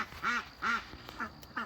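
Four nasal quacks from a duck on a farm, evenly spaced and fairly near, the first two fuller and the last two shorter, with no voices.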